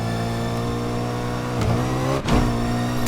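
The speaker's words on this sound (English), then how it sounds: "just listen to this M3 E90, it sounds so more mean and so more accurate to the real M3 E90" Modded BMW M3 E90 engine revving in the racing game Need for Speed Unbound, a loud, steady, deep engine drone with a brief dip and swell near the end, heard alone.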